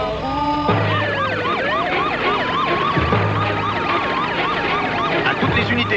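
Several police sirens wail together and overlap, loud and continuous, with rising and falling tones over the low rumble of vehicles, during a thriller scene involving a hijacked bus.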